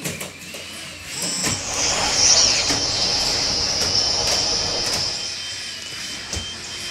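A train ride in a video game: a steady mechanical rumble with a thin, high whine running over it, continuous and fairly loud for the whole stretch, with no talking.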